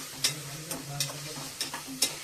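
Mutton curry sizzles in a pan while a utensil stirs it. Soft scraping strokes recur about every half second over a low, continuous frying crackle, close up and with no speech.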